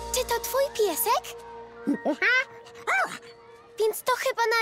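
A dog whimpers and yips in high, wavering whines, several short cries in a row; a voice also sounds during the clip.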